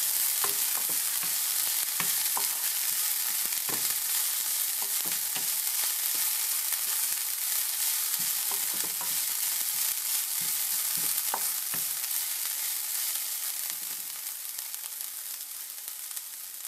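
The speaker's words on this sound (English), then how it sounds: "I'm frying some onions." Chopped onions and minced green chili fry in a hot pan with a dense, continuous close sizzle, scattered crackles and light stirring clicks, easing slightly toward the end.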